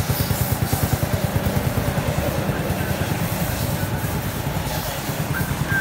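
A modified Honda CD 90 Benly motorcycle engine with a small rod stroked 2.5 mm, 52 mm piston and Sport Magic ported head runs steadily near the microphone, a rapid even low thump from start to finish.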